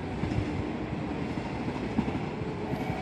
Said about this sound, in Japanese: 415系のロングシートタイプが来ましたね